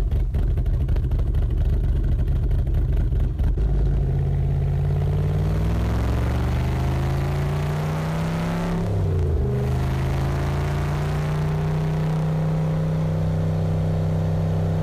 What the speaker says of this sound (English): Finally, driving the Superlite coupe.